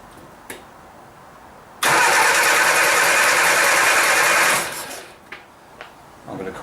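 Triumph Herald engine cranking on a starting attempt with a fuel supply fault, a loud steady whirring churn of the starter lasting about three seconds and then winding down without the engine catching, followed by quiet clicks.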